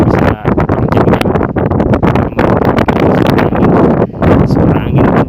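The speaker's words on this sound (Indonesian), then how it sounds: "Suara angin kencang sekali." Strong wind buffets the microphone on an overpass at a toll road construction site near the Kosambi toll gate, a loud, continuous roaring rush with gusty surges and brief dips throughout.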